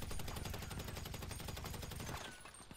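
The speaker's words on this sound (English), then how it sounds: "You see, the bullets are even going in the ground" Rapid automatic gunfire from the video game GTA 5 rattles in a dense, loud, continuous burst for about two seconds, then breaks off into a few scattered shots, with no talking.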